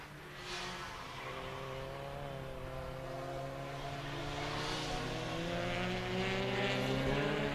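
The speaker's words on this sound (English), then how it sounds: "There is the black Subaru tracking towards us now." A black Subaru time-attack car on the track at Mid-Ohio approaches, its engine note rising steadily in pitch and loudness as it draws nearer, a continuous drone with no talk over it.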